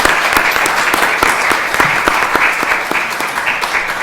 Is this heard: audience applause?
yes